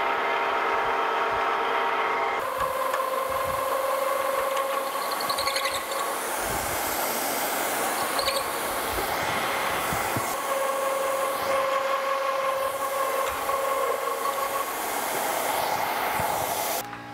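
A machine drills holes in steel steam locomotive spring hangers, giving a loud, steady mechanical whine with a sustained tonal drone that shifts slightly as the cut proceeds, with no talking.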